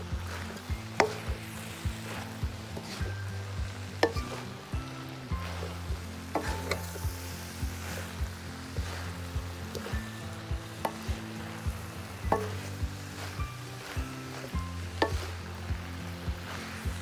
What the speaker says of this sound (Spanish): Hacemos espacio para poner las pechugas que ya teníamos desmenuzadas, para que se integren con todo lo que ya tenemos ahí